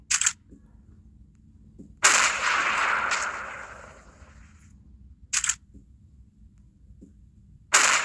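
Rifle shots in a hunting sniper video game ring out four times at uneven intervals: short, sharp cracks, one trailing off in a long rolling echo, with quiet gaps between them.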